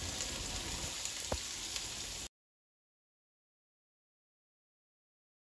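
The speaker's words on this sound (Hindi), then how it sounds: "तो चलें अब हम अपने बीफ चीज़ समोसा को फ्राई करते हैं" Beef and cheese samosas deep-frying in hot oil produce a dense, close bubbling sizzle for about two seconds before the sound cuts off into silence.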